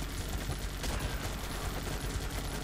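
Rapid, dense gunfire from the video game Guns Up, a steady loud rattle of overlapping shots with no break over a few seconds.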